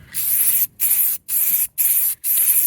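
A half-empty can of spray paint hisses in five steady bursts of about half a second each, close and loud, with brief silent gaps between presses and no talk.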